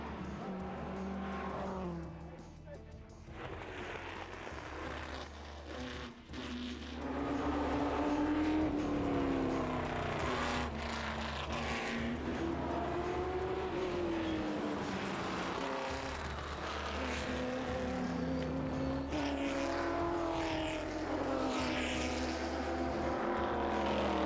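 Ford GT40 and other classic race cars at Le Mans Classic roar past on the circuit, loud engines rising and falling in pitch as they accelerate and pass, with a continuous track-side din.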